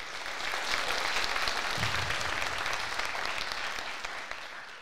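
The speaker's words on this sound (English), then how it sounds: "big round of applause" High school assembly crowd applauding Hall of Fame inductees at Pueblo Centennial High School, a broad, sustained wash of clapping from many people in a large room, fairly distant and steady before easing slightly at the end.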